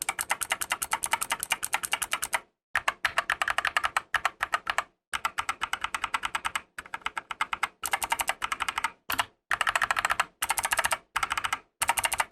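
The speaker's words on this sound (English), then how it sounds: "I figured I might as well do a side-by-side comparison in case you want to hear it." Mechanical keyboard typing on Gateron blue, red and brown switches, compared one after another on a budget 60% TMKB GK61 board: dense bursts of rapid clicky keystrokes, close and steady, separated by short silent pauses.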